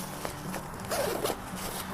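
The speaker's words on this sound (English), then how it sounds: "what I'd recommend is opening the zippers and the main compartment" Zippers on a Kuiu Icon Pro backpack being pulled open, a short close rasping zip with a few quick strokes, heard alone without talk.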